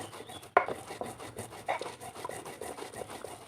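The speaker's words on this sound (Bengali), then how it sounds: "তো এখন জিরেটা আমি বেটে নিচ্ছি" Cumin seeds ground into a paste on a traditional grinding stone, a close rhythmic rasping and rubbing with one sharper scrape near the start, steady and fairly quiet.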